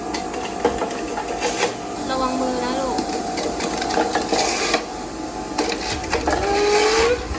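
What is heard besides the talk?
electric juicer running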